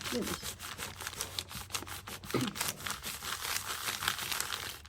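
Close, rhythmic scratchy rubbing and crinkling of a brown paper bag, repeated strokes at a steady pace, fairly quiet.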